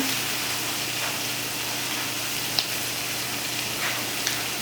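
Cauliflower sizzling in a pan over medium heat, a steady close hiss of frying with a couple of faint ticks and pops, no talking.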